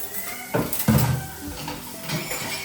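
Pots and metal dishes clatter and clink as they are washed in a hurry, with irregular scrapes and knocks close by and a brief voice-like sound mixed in.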